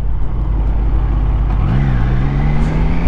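A Triumph Trident 660 three-cylinder motorcycle engine runs steadily up close, its low rumble holding throughout and rising into a revving pitch sweep about halfway through, with no voices.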